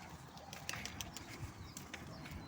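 Pigeons settle into a coop, giving soft coos with brief wing flaps and scattered chirps, faint and close against a quiet background.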